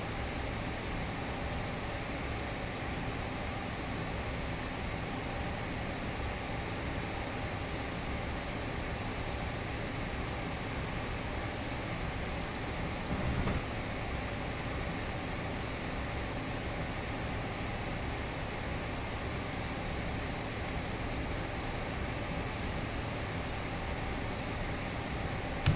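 Steady broadband whine and hum of an Avro RJ100 auxiliary power unit running in the P3D flight simulator, a constant loud drone with no talk.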